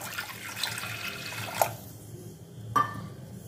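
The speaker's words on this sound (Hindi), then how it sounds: "सो देखिए मैं ये प्रेशर कुकर को गैस पे चला दिया एंड ये पानी डाल दिया।" Water running and splashing into a pressure cooker set on a gas stove, a steady pouring wash with a couple of brief metallic clinks.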